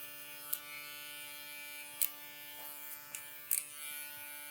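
An electric shaver hums faintly and evenly through a skin fade haircut, with a few sharp clicks and brushing taps from handling the clippers.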